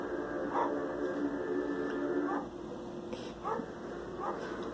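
A dog barks several times in short, spaced yips over a steady background drone, moderately close but not loud.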